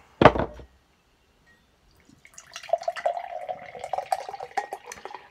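A can of BOOST iced coffee is poured into a cup, after a single sharp clack comes a short quiet gap, then a steady, close, gurgling liquid stream that continues to the end.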